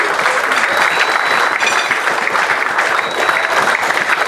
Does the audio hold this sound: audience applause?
yes